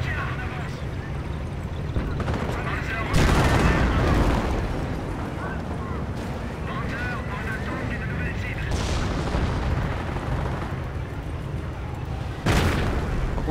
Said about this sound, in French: il y a des mortiers qui me font chier